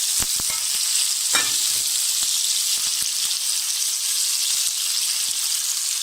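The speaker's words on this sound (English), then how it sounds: "Let that fry up." Food for Jamaican steamed fish fries in a pan, a loud steady hiss of sizzling oil broken by sharp crackles and pops, up close with no voices.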